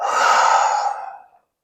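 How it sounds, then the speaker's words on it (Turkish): One long, breathy exhale through the mouth during a beginner morning yoga routine, close and soft, lasting just over a second before it fades into silence. "Öncelikle burnundan derin bir nefes al. Ve ağzından boşalt."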